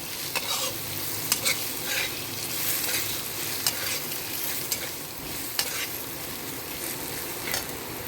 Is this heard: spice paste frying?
yes